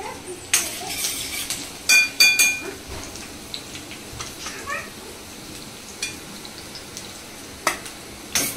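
Curry leaves and chillies sizzle in hot oil as the tempering for sabudana khichdi cooks, a soft crackle with occasional sharp clinks and stirring scrapes from the pan.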